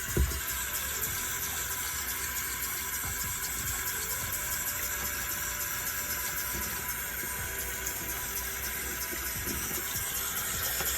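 Steady running tap water splashing over a filter being washed with soap, a continuous close rush of water that holds the same level throughout.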